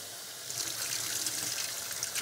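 Long-grain rice being rinsed under running tap water, a steady, fairly quiet trickle and splash that grows a little fuller partway through, with no talking.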